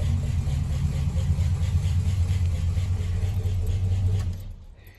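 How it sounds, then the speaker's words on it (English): A stock Holden 253 cubic inch V8 with twin exhaust pipes idles with a deep, steady low rumble that carries on unbroken for about four seconds, then cuts off and fades out as the engine is shut down. "253 cubic inch Holden V8 with a Tri-Matic 3-speed automatic"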